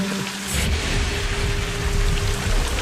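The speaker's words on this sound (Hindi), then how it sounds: "बारिश और पानी का बहाव" Heavy rain pours beside a cold, fast Himalayan river during a river crossing, a loud dense hiss of rainfall and rushing water that rises slightly after the first half-second and stays steady throughout, with no voices.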